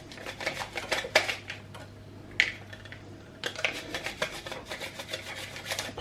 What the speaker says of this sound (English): So I'm just slicing garlic, very rudimentary, quite bigger than I wanted.